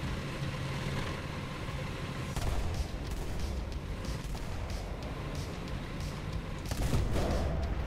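Heavy explosion bursts and rumbling engine noise in the War Thunder football mode, as the ball blows up overhead among tanks; loud blasts punctuate a continuous mechanical drone, with no voices.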